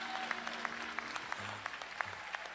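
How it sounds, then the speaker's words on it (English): Audience applause at a community forum, moderate and fairly distant, with scattered sharp claps standing out over a steady patter and a faint hum underneath. "Can we give a round of applause for Reverend Jackson?"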